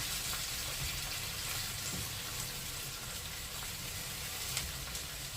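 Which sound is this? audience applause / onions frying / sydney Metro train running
onions frying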